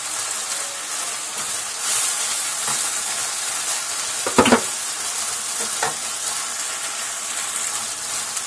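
Rice and shrimp frying together in a pan, a steady bright sizzle throughout with a few louder scrapes and stirring clatters of the utensil midway, close by and with no talking.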